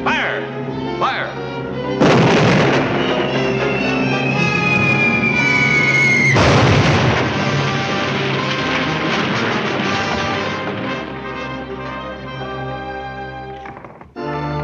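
A cartoon artillery cannon in a 1941 Warner Bros Merrie Melodies short firing with booming blasts and a whistling shell, loud and dense under orchestral music and shouted commands.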